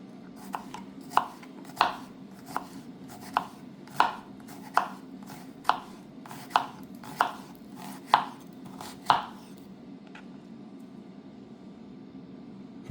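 A PAUDIN kitchen knife with a Pakkawood handle chops food on a board: about a dozen crisp, evenly spaced knocks close by over a faint hiss, then the cutting stops and near-quiet follows.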